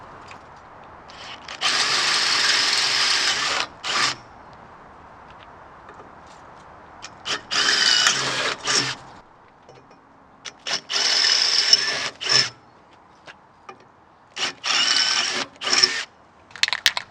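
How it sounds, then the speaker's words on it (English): A power drill bores out a metal mount on a Turtleback trailer swing arm in several whining bursts of a few seconds each, separated by short pauses with faint background noise. "we got to drill out the mount on the Turtleback swing arm"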